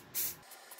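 A single short, light hiss of mold release sprayed onto resin molds, close and soft, followed by faint quieter sprays.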